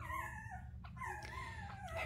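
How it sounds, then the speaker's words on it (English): A newborn Harley puppy, about six days old, whimpers and howls in rising and falling cries, close and continuous over a low steady background hum. "There's a very vocal Harley puppy over there."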